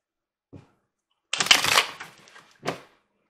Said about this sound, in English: let me pull up a couple of cards for this authority really fast